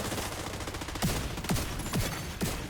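Artillery strike in a shooter game, four sharp descending whistle-thumps spaced about half a second apart, fairly faint, over steady background game noise.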